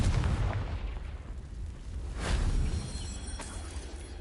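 Confringo blasting spell explosions in the Hogwarts Legacy game: deep booming blasts with a rumbling tail, one swelling burst in the middle and a sharper crack near the end.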